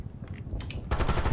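Gunfire in Call of Duty Black Ops 6 on the Ground Control veteran campaign mission, dense rapid shots and crackling bursts building louder toward the end, close and continuous with no talk.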